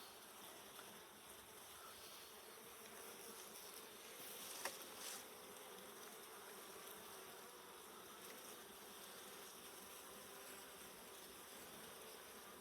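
Honeybees swarm around an open beehive during an inspection, making a continuous soft buzzing hum with one brief knock midway.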